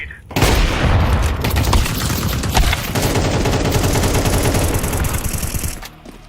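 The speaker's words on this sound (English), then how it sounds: "Throwing a grenade." A grenade blast and rapid gunfire in a Counter-Strike match, with continuous loud shooting and booms running nearly the whole stretch before cutting off near the end.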